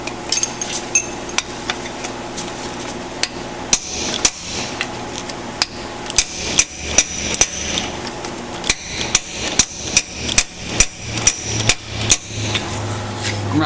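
Hammer tapping a socket on a Ford 641 tractor's hydraulic pump and gears, sharp metallic strikes close by, irregular at first, then a steady run of evenly spaced taps.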